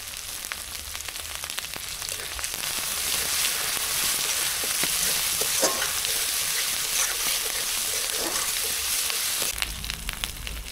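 Cumin and coriander paste hits hot oil in a frying pan for a doi mrigel fish curry, giving a loud, steady, crackling sizzle that swells and holds throughout with no talk.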